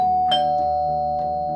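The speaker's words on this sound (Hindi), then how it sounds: "तभी घंटी तेजी से बजने लगती है" Doorbell sounding as a steady sustained electronic tone, with several quick pulses and clicks riding on it, loud and close, with no voices.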